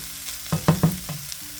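Rice with garlic and onion fries in a pot while it is stirred, making a few quiet scraping strokes over a low sizzle.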